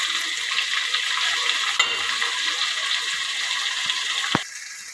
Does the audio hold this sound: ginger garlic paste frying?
yes